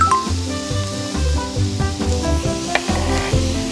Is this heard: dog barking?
no